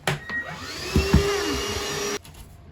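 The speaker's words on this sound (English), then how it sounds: "So we will vacuum that out" A vacuum cleaner sucks up drywall debris during a bathroom remodel, whirring steadily for about two seconds with a rising whine before cutting off abruptly.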